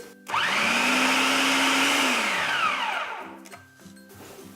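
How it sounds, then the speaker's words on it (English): A blender whirs loudly through a meatless patty mixture for about three seconds, its motor pitch steady and then sliding down as it spins to a stop, followed by faint clatter. "I'm just going to give it another quick blend."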